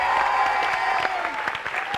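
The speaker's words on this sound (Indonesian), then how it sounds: "Tepuk tangan lagi dong buat Sarah dan Tasya semuanya" A studio audience on an Indonesian game show applauds two guests, Sarah and Tasya, with a steady wash of clapping and a voice carrying over it throughout.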